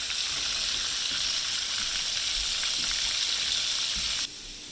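Mustard and cornmeal-coated fish sizzle steadily in hot oil in a pan, making a constant loud crackling hiss that drops off abruptly just before the end.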